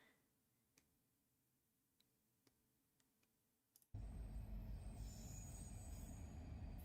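A train rolls loudly past at close range, a dense roar of wheels and squealing rail noise that bursts in suddenly after a quiet stretch of faint clicks and ticks, then holds steady to the end.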